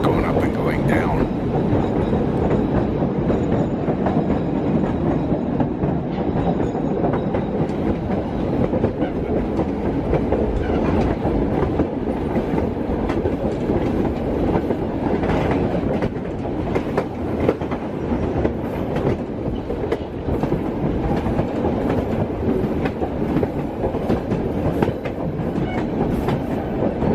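A White Pass and Yukon Railroad train of old cars rolls steadily along the rails near Skagway, Alaska, its rumble and rhythmic clatter continuing throughout, with faint voices mixed in at times.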